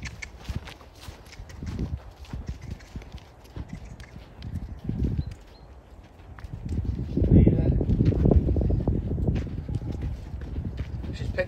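A nine-year-old horse being led on foot gives an uneven series of hoof clops and shuffling steps, growing louder and denser partway through, with wind noise and a person talking in the background.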